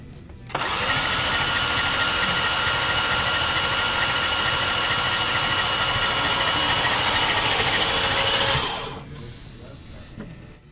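A BMW M340i engine with its spark plugs removed spins on the starter for about eight seconds, a loud, even, whirring crank that cuts off abruptly, leaving faint shop noise behind.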